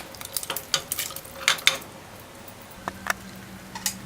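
Dumplings and beef stirred in a stew pot with carrots, heard as scattered scraping and clinking taps of a utensil against the pot, close but fairly quiet, with gaps of low background hum between strokes.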